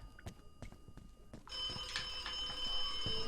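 A telephone rings in the video game The Occupation: an electronic bell trill starts after a few soft thumps and footsteps and keeps going steadily at moderate volume, alone without talk.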